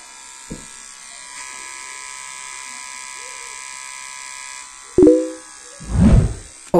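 A steady electric buzz from a small Philips beard trimmer runs continuously, ending with a couple of short clicks and a louder thump as its slide switch turns it off.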